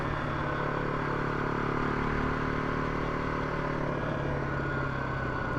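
A KLR 250 motorcycle being ridden, its engine droning steadily under heavy wind and road rush, loud and close without clear breaks. No one speaks.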